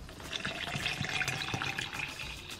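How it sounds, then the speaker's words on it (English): About eight ounces of water poured into a shaker bottle, a steady splashing trickle with small bubbling drips, close and moderately quiet, with no talking. "So I put like 8 ounces of water in here."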